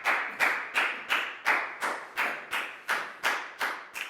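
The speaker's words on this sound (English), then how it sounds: "High five and a big round of applause for Pak Bung" A classroom of Year 4 students claps for a classmate after a science experiment, about eleven sharp, loud, unison claps in a steady rhythm, with no talk.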